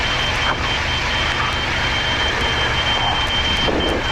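A light aircraft's stall warning horn sounds during stall practice, holding one steady high tone against the constant engine and cockpit drone.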